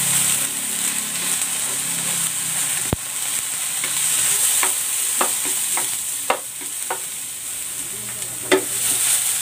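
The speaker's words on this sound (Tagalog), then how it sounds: "i-pan-fry ko muna itong patatas." Potatoes pan-frying in hot cooking oil give off a steady, close sizzle, with scattered sharp clinks of utensils stirring the pan and no voices.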